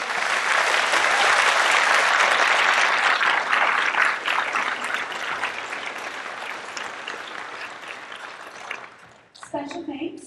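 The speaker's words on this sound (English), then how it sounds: "Please give them all a round of applause" Audience applause for the volunteers of an annual performing arts festival in Powell River, a dense and steady burst of many clapping hands that slowly thins before fading out near the end.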